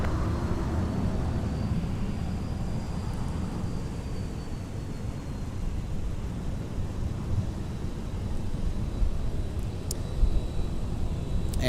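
A United airliner departing Minneapolis–St. Paul airport for Chicago O'Hare, a broad, steady jet roar with low rumble holding for the whole stretch, no voices over it.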